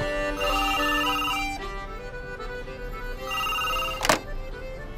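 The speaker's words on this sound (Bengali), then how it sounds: "হঠাৎ করে টেবিলের উপর রাখা ফোনটা বেজে উঠল" A desk telephone rings with a bright electronic trill in two bursts, followed by a short knock, with no one speaking.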